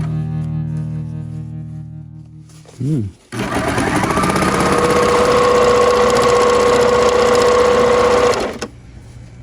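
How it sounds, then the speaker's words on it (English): A sewing machine top-stitching over a serger seam runs in a steady, continuous mechanical whir for several seconds after a brief burst of noise, with a sustained hum and a high whine above it. "I'm using the sewing machine to do a top stitch right over the back stitch of the serger"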